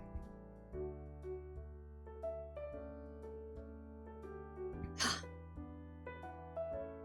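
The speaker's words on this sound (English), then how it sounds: "Is it like a granddad sneeze?" A single sharp sneeze bursts out near the middle, loud and close, over a steady bed of soft background music.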